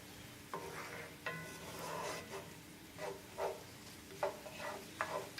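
Ground turkey browning in a pan gives a soft, quiet sizzle, broken by several brief scraping stirs at irregular intervals.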